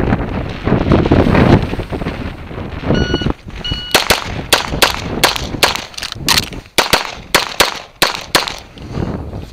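Repeated sharp gunshots from shooting training, about a dozen loud cracks fired at an irregular rhythm, following a stretch of rumbling wind noise.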